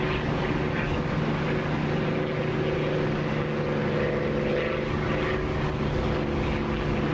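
Steady, droning piston engine of a P-51 or TF-51 propeller fighter in the DCS flight simulator, a loud continuous hum with a low tonal buzz holding level throughout, no voices.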